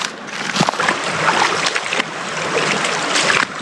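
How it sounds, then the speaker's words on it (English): A hiker wades across a forest creek with waterproof covers over the shoes, and the water splashes and sloshes steadily and close by throughout, with no talk. "So we'll probably just cross the creek."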